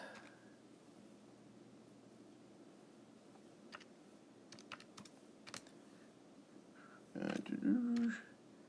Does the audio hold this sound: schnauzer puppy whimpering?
no